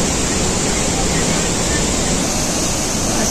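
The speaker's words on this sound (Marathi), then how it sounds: "बघा हे वॉटरफॉल, जे पाणी जे जमिनीमधून येत आहे आणि जमिनीमध्ये गडपत" Davis Falls in Pokhara, Nepal, where the water plunges into the ground, sends up a loud, constant roaring rush of falling water, heard close and unbroken throughout.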